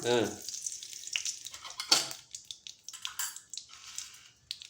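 Mustard seeds crackle and sizzle in hot oil, sharp popping bursts scattered irregularly over a quiet hiss, close by.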